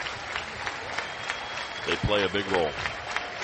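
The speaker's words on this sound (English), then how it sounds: "the fans are back on their feet for the 2-strike clap and stomp on the aluminum decking" Baseball fans at Jim Patterson Stadium clap and stomp on aluminum decking for a two-strike count in a college Super Regional game, a dense crowd rumble with scattered claps beneath a voice speaking near the end.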